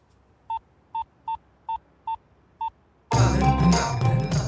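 Six short dial tones beep in an even rhythm, clear against near silence, then a loud burst of noisy sound takes over.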